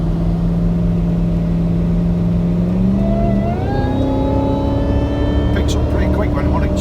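A custom-supercharged Audi A6 engine with methanol injection revs under hard acceleration, its steady drone climbing in pitch with a rising supercharger whine, loud and close inside the car.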